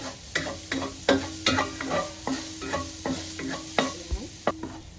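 Egg tofu fries in oil while a spatula stirs it over and over. Regular metallic scrapes and taps land against the pan about once a second, all above a soft continuous sizzle, with no talk.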